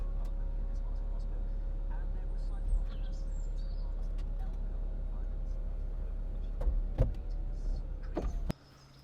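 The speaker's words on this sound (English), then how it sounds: "electrically operated roof, which I'll show you in a second" The electric folding roof of a 2006 Mercedes-Benz SLK280 runs with a steady motor whine and occasional mechanical clunks, stopping abruptly near the end, while birds chirp faintly outdoors.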